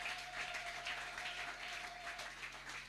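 A church congregation at a sermon applauds in a soft, distant, continuous patter of clapping, with a faint steady electronic hum running underneath.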